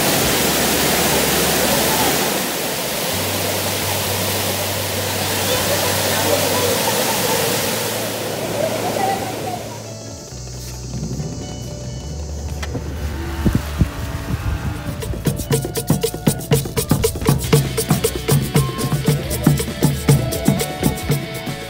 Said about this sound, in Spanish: La gran cascada, se viene a disfrutar el agua fría.